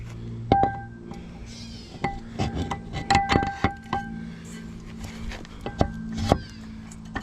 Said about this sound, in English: we're gonna go ahead and slip this prop on